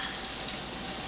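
Two small sliced onions frying with salt in a pan as they brown toward caramelizing, a steady close hiss and sizzle with no talking.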